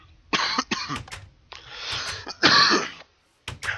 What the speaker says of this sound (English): Stop these coughing spurts every once in a while.